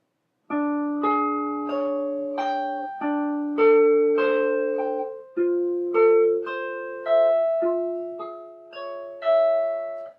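Clean guitar notes plucked slowly one at a time, climbing and shifting across the neck in a repetitive finger exercise, each note ringing out before the next.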